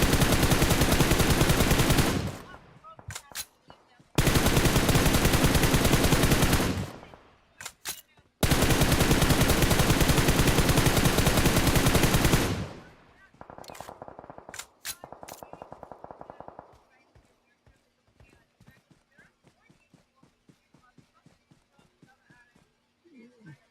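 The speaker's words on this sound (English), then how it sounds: "one more bullet to connect, and Mega Mind is just going to be out from" Gunfire from a PUBG esports match at the DEW League 2023 main event: three long, loud, dense bursts of automatic fire, then quieter scattered shots and a fainter rattling volley, with commentator talk underneath.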